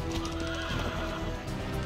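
A horse in the video game Red Dead Redemption whinnies loudly and close for about two seconds, with hoof clip-clops and game background noise beneath it.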